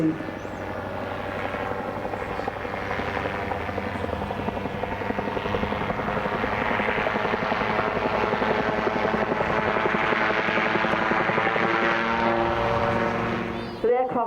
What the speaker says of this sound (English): Now looping in front of us is the Twister